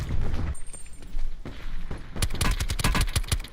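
Rapid bursts of gunfire in Call of Duty Blackout, scattered shots early then a dense, loud volley of sharp cracks toward the end, with no talking.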